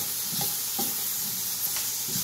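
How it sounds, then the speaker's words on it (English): Sweet and sour eggplant (khatta meetha baingan) stirred in a pan over a low flame, a soft steady sizzle with a few gentle scraping strokes of the spoon, close and continuous. "Keep the flame low and keep stirring it."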